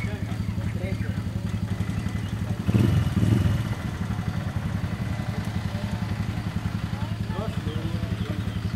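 A quad bike engine runs at a steady idle throughout, close and loud, rising briefly in the middle before settling back to an even rumble.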